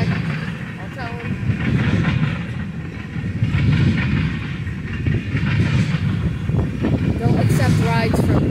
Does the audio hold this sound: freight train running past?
yes